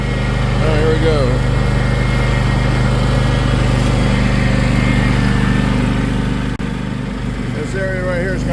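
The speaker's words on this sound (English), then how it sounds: "I'm not for sure if this little mower is gonna pull this or not." A small lawn mower engine drones loud and close, labouring steadily while pulling a load through thick farm soil, with a brief dip near the end; a person speaks faintly in the background.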